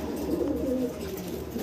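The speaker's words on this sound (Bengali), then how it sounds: "সর্বোচ্চ গেটআপ কোয়ালিটির এক জোড়া সিরিয়ান কি বলে ডিউলিপ কবুতর" A pair of Syrian dulip fancy pigeons coo softly in low, rolling murmurs, close and fairly quiet, with a faint steady background hum.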